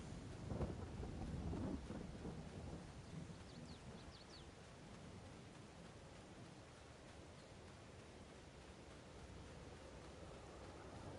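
Rain falling in Farming Simulator 22, a faint, steady wash of noise throughout, with a low rumbling swell near the start.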